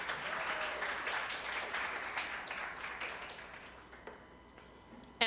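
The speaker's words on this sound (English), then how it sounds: "A round of applause for Christina" An audience at a Latina women's leadership panel event applauds with sustained clapping that gradually tapers off, moderately distant, with a few sharp taps near the end.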